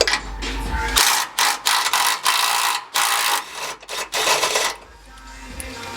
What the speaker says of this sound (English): so we're about to impact the 6 bolts off in the bottom.